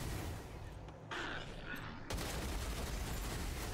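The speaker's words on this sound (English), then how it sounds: "that really strong submachine gun that he got" Submachine gun fire in a post-apocalyptic wasteland video game crackles in dense rapid bursts, loud and close, with a brief lull before another sustained volley.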